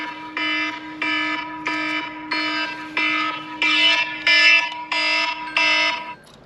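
An electronic alarm beeps in a steady repeating pattern, about eight tonal pulses with short gaps, moderately loud and close.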